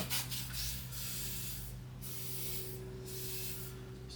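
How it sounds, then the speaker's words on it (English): WD-40 aerosol sprayed onto an outboard motor's impeller housing, a steady hissing spray running nearly the whole time with brief breaks, close up, over a low background hum. "Just a little bit of basic WD."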